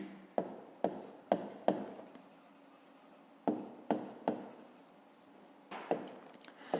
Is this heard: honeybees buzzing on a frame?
no